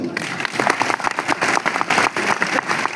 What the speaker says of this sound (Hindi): एक बार अपने लिए ताली बजा लो।